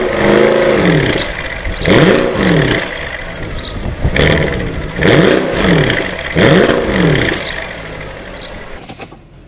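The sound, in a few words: Mercedes SL63 AMG 6.2 V8 engine starting and revving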